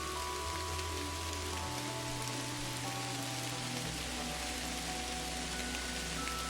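Steady rain pours onto surfaces in the video game Kathy Rain, a dense unbroken hiss with faint low tones shifting beneath it and no speech.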